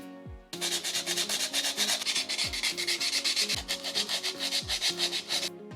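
Polygel nails filed with a cheap double-grit block file, giving steady rhythmic rasping strokes in close, loud bursts with brief pauses between passes.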